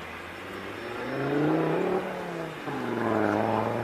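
A Loganair airliner engine on the runway hums deep and throaty, rising in pitch steadily, a continuous mid-distance roar with smooth swells and no voices.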